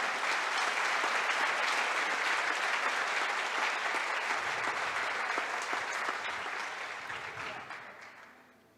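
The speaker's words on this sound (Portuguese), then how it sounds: "Vamos aplaudir o Senhor Espírito Santo." Sustained applause from a church congregation during a service, strong and even at first, then gradually thinning and fading out toward the end.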